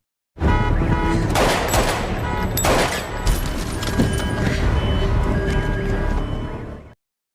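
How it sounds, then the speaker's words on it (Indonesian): A rapid burst of loud gunfire crackles in quick succession, with a few sharper shots standing out, then cuts off abruptly. "Suara letusan memecah kesunyian malam."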